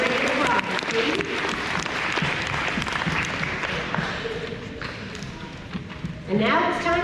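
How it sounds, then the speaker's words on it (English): Applause from a crowd at an elementary school awards ceremony fills the room and slowly thins out, then a voice speaks over the last scattered claps. "Another hand of applause, please."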